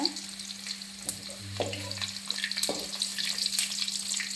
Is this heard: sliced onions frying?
yes